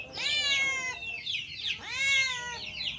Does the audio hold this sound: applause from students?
no